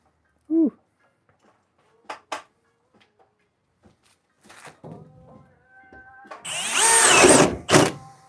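Power drill boring holes through wood in a basement suite under construction, a long loud grinding burst near the end after scattered knocks, taps and a brief squeak.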